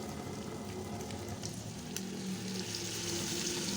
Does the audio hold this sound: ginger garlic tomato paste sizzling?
yes